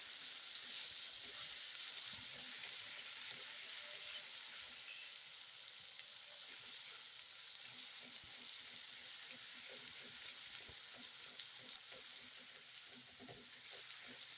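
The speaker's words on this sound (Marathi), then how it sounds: "लाल होईपर्यंत कांदा परतायचा आहे आपल्याला" Onion sautés in a pan for pav bhaji, giving a soft, steady sizzle with faint scraping stirs throughout, quiet and close.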